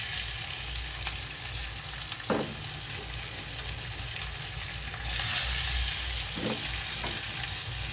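Onion goes into hot oil already cooking with green chili, ginger and garlic, a steady close sizzle with a couple of stirring scrapes and a louder burst of frying partway through.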